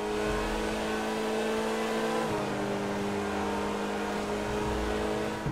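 A Grotti Cheetah Classic sports car in Grand Theft Auto V drives along a coastal road near Vespucci Beach, its engine a steady loud drone with a brief dip and shift in pitch midway, with no speech.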